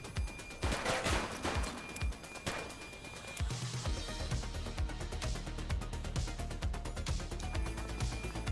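Gunshots in The Precinct, a police action game set in Averno City: a rapid, close run of sharp shots in the first few seconds, then dense sustained gunfire and crashing action noise continuing throughout.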